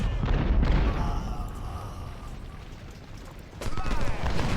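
Booming artillery fire in Ultimate General: Civil War, a loud blast at the start followed by a lingering rumble and scattered battle noise, then another swell of fire near the end.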